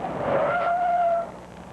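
A car's tyres squeal in one brief, loud skid during a police training braking and maneuvering test, the screech rising and holding steady before cutting off.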